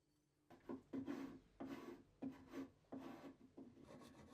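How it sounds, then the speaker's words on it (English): A hand rasp filing wood in repeated strokes, about seven rough scraping passes in steady rhythm, close and moderately loud with short pauses between strokes. "There'll also be occasions when a rasp would be appropriate."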